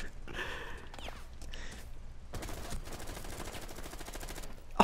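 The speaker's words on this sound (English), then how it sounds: "Dude, shoot Twitch, shoot Twitch" A video game plays rapid automatic gunfire as a steady stream of shots, first sparse and then dense, fairly faint and with no talk.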